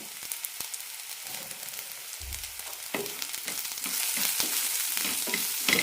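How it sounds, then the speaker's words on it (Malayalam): Small shallots fry with turmeric powder in a pan, a close steady sizzle with stirring scrapes that grows louder and denser toward the end. "മഞ്ഞൾപ്പൊടിയുടെ സ്മെല്ല് പോകുന്നത് വരെ ഒന്ന് വഴറ്റണം."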